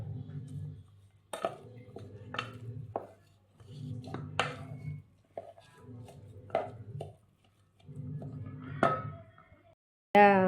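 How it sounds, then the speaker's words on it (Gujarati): Pasta roll filling mixed with lemon juice and ginger-chilli paste in a bowl, quiet squelchy bursts of stirring with short sharp spoon taps against the bowl, separated by brief pauses, close by. "હવે આપણે આને મિક્સ કરી લઈશું"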